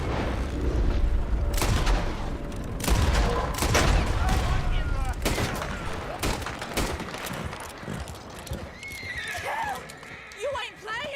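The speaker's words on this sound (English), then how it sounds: "Die haben das Feuer eröffnet" Gunfire erupts in a Red Dead Redemption 2 western shootout, sharp shots and booms mixed with horse whinnies and hooves, while voices talk over the chaos.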